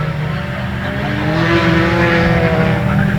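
Race cars at a short-track speedway roar into turn 3 together, a loud continuous multi-engine drone that swells slightly as the pack passes close by.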